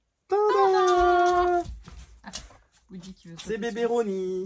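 A young, lively house cat gives a long, drawn-out meow up close, then someone speaks affectionately over softer, broken vocal sounds that may include further small cat noises.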